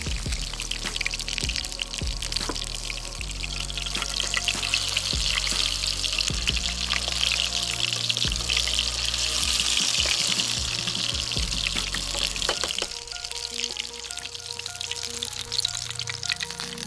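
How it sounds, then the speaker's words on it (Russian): Pike fish cutlets sizzle and crackle steadily in hot oil, a constant close-up frying hiss with occasional pops and a few clinks. "Жарятся котлетки, ребят."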